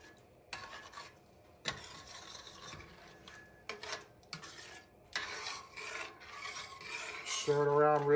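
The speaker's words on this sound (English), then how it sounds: "Stir it around real nice to get it all incorporated" A cream base is stirred into a lobster pan roast in a pan, producing close, rasping scrapes and rubs in uneven bursts, with a louder, steadier stretch near the end.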